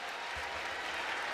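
Crowd applause fills a basketball arena at a Duke women's game against Wake Forest, a steady, dense wash of clapping and cheering that holds at an even level throughout.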